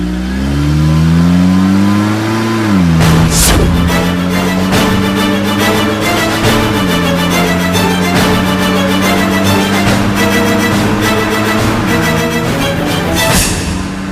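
A car engine revs loud and close under steady driving, its pitch climbing through several gear changes with sharp shifts between them, and no voices over it.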